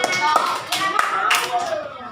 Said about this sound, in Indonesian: Kita berikan apa tepuk tangan